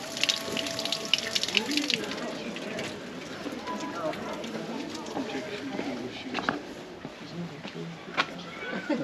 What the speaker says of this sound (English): like in many places, water fountains